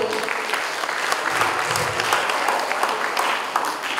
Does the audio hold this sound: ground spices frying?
no